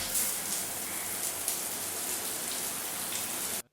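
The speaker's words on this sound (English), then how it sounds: "I use my pump and water filter with my water tank to have a quick shower" Water hisses steadily from a pump-fed camp shower fed by a water tank and filter in the Namibian desert, a close, dense spray that runs without pause for a few seconds before cutting off abruptly.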